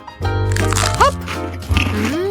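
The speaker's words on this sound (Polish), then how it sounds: "To mój rożek, pokruszę go w dłoni i zjem w ten sposób" An ice cream cone crushed in a hand and eaten, giving crunchy, crackly bursts mixed with squishy noises, heard close and loud under playful vocal sounds from a voice.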